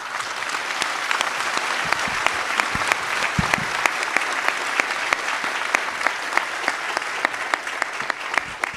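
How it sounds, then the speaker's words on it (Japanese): An audience at a Japanese association meeting applauds for an incoming president's address, a steady sustained round of clapping with a few sharp close claps standing out, no voices over it. "大きな大きな声援をよろしくお願いいたします。"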